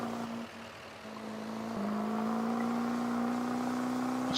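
A Duramax pickup truck engine in the Farming Simulator game gives a steady droning hum that dips briefly, then climbs and holds a higher pitch as the truck pulls away.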